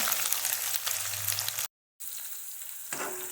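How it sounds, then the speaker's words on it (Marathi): Onion frying in hot oil with cumin and mustard seeds gives a constant, dense sizzle and crackle, briefly cutting out, then resuming with a stirring scrape near the end. "कांदा लालसर होईपर्यंत भाजून घ्यायचा"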